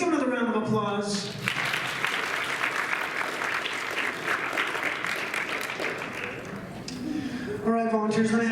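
A live audience at a USU Mardi Gras show with volunteers on stage bursts into sustained, dense applause for about six seconds, framed by a speaking voice before and after.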